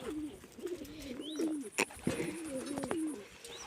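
Pigeons coo close by in repeated low, throaty, rolling phrases, with a couple of short sharp knocks or flutters mixed in.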